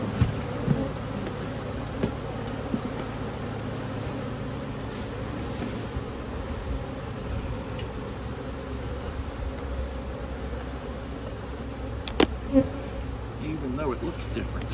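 Bees buzzing steadily around a hive, a continuous dense hum at close range, with a couple of faint clicks near the end.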